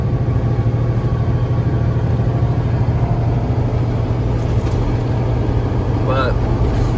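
A 500-horsepower car hauler truck engine labors up a hill at 45 to 50 mph, a steady loud low drone and road rumble throughout, heard from inside the cab.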